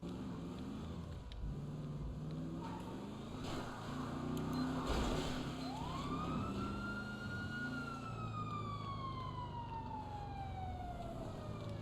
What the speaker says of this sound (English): So you gotta hit lights first before your siren will come on.